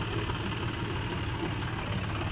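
A tractor engine runs steadily at a temple fair, a continuous low idling rumble that holds at a constant level from start to finish with no talk above it.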